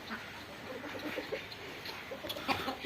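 A hen clucks softly in a Punjabi village yard, a few faint, scattered clucks at low level against quiet rural background.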